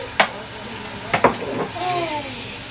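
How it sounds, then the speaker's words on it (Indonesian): Spice paste for perkedel being sautéed in a pan, a soft sizzle underneath a few sharp utensil scrapes and clinks as it is stirred, close by, with faint background speech. "Ini mami lagi numis bumbu untuk perkedel."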